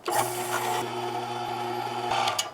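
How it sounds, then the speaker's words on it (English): A meat grinder fitted with a fine die runs steadily while grinding partially frozen pork, giving a close, continuous motor hum with a grinding rasp that stays alone and unbroken throughout. "through the meat grinder we go. Got the fine die on there today"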